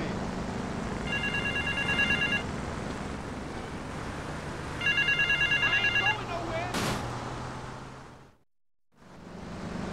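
Payphone ringing at an airport terminal in GTA Vice City, two bursts of electronic trilling rings over a busy game ambience with engine noise and a brief loud crack, the sound cutting out near the end.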